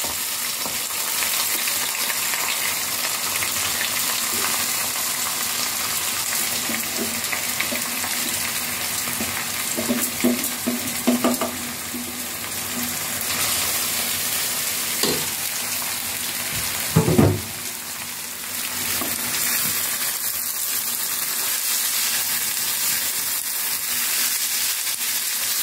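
A steady, fairly quiet sizzle of ingredients frying in a little oil in a pan for Lenten stuffed vine leaves, with a few soft clinks and stirring knocks midway.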